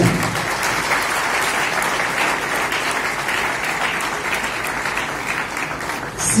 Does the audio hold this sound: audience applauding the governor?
yes